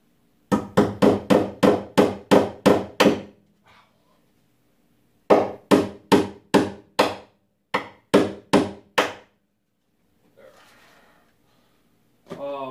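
Hammer striking a nail during prop making, two close, loud bursts of evenly spaced blows, about nine then seven, separated by silence, with a faint breath or rustle near the end.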